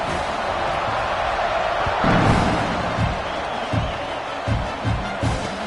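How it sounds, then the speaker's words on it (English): A large football stadium crowd at an Ole Miss at Oklahoma game roars in a steady wash of noise before kickoff, with swelling cheers and a few thuds underneath. "this crowd now ready to get behind them"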